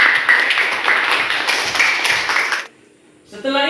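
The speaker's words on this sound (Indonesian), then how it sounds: "tepuk tangan." A school class claps hands in a loud, busy burst of many overlapping claps that stops abruptly, followed by a brief silence before a voice begins speaking.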